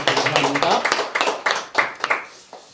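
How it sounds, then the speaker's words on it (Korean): A church congregation claps after a sermon blessing, a few uneven bursts of hand clapping that fade out over a couple of seconds, with a voice briefly mixed in. "그런 의미로 우리 하나님 앞에 영광의 박수 모이겠습니다."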